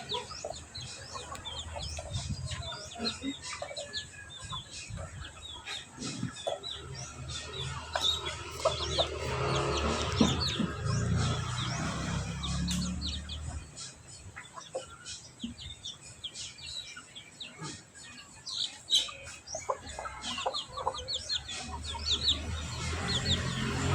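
Backyard chickens that are almost grown, kept in a coop before release, cluck and chirp steadily alongside scattered bird calls. The fowl sound close and moderately loud throughout, with no one talking.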